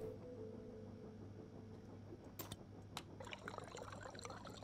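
A character drinks water in the Stationeers video game, heard as faint liquid pouring and trickling over a low background hum, ending in a few short splashy bursts.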